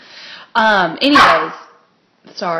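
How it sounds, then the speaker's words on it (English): A pet dog indoors lets out a few short, sharp barks in separate bursts, mixed with a person talking nearby. "that is my dog"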